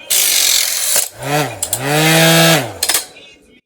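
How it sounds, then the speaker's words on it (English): A faulty electric blow dryer roars on with a harsh whine that warbles and dips in pitch, rattling unevenly before cutting off abruptly. "I was gonna use this blow dryer"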